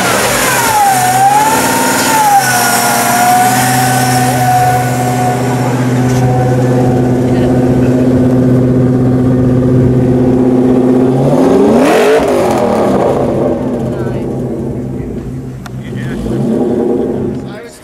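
A car engine at a Cars and Coffee meet fires up and revs loudly, pitch sweeping up and settling into a steady high drone before dropping and rising again, with people talking nearby.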